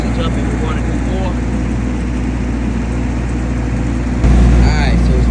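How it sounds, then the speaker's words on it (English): A 15 kW military generator's diesel engine runs steadily at idle, a loud, constant low rumble with a faint voice over it and a small rise in level near the end. "The diesel engine sounds so good."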